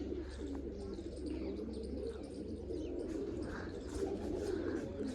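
A large flock of pigeons coos in a thick, continuous murmur, and scattered chirps and a few brighter calls break through. The birds are close, with no talking over them.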